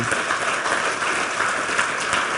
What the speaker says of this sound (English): Can you give him a huge round of applause